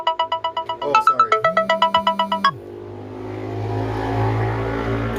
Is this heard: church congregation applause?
no